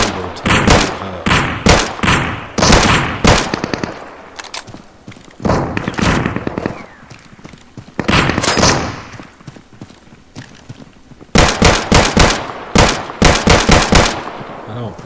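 Automatic turret gunfire in the survival shooter Deadside on PS5, loud sustained bursts of rapid shots repeating in several volleys with short gaps between them, no talking.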